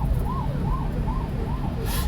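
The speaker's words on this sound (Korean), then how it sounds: "앰뷸런스가 벌써 제가 한 3대를 봤는데" An ambulance siren sounds at a moderate distance, its repeating rising-and-falling wail regular and somewhat muffled beneath a low rumble of traffic.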